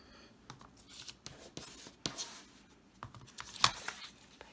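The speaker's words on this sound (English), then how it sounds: "So we're going to cut another 2 and" Paper being snipped with scissors into long narrow columns for a bride-to-be countdown project, a series of short crisp cuts and rustles at close range, fairly quiet with no talking.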